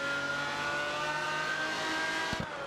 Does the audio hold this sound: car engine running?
yes